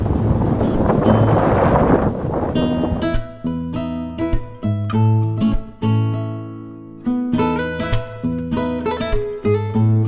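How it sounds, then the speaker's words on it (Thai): Strong wind on a mountain top buffets the microphone with a rough, blustery roar for the first few seconds before steadier tonal sounds take over. "ลมแรงมาก"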